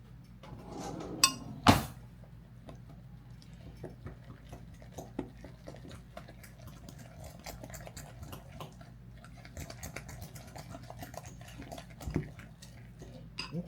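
Corn dog batter and milk being stirred in a bowl, a steady run of light, rapid clinks and ticks of a utensil against the bowl, preceded by a couple of louder knocks, with no talking.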